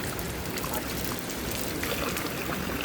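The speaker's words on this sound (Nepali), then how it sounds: "पानी परिरहेको छ र हामीलाई जानुपर्ने हुन्छ" Steady rain falling outdoors near a natural water spout, a dense even hiss of drops with no pauses, close and moderately loud throughout.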